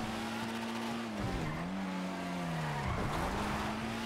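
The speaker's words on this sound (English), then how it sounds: "Again, he nosed out of a drift." A car drifts in GTA 5 RP, its engine droning steadily with a long tire squeal whose pitch dips and rises twice as it slides, heard alone and fairly close.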